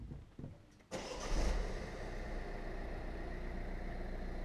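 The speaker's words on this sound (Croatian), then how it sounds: "sad ćemo pokrenuti auto" A Peugeot 3008 car engine cranks and catches about a second in, then settles into a steady, close idle that continues to the end, with no talking.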